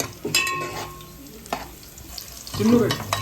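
Natukodi chicken curry being stirred in a pan: a few scraping strokes and soft sizzling close by, with a louder clatter and scrape near the end, no talking.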